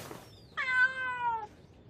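A single drawn-out cat meow with a rising then falling tone, clear and fairly close, in a quiet scene of a drama CD.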